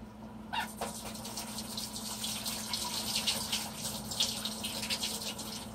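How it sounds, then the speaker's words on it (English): Tap water runs steadily into a sink while hands are washed beneath it, a continuous splashing gush with irregular spatters, fairly close, over a low steady hum, after paint work for an acrylic flip cup pour. "Let me wash my hands real quick."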